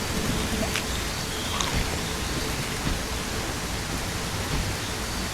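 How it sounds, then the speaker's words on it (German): Steady, dense rain hiss from the video game Bigfoot Life, loud and constant throughout with faint scattered drop ticks and no voices. "Regen ist schon irgendwie laut"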